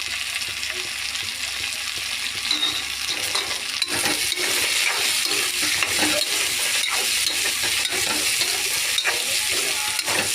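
Rice with turmeric, paneer and masala fries in a pan, an even sizzling hiss broken by frequent spatula stirs and scrapes, close and fairly loud with no talk.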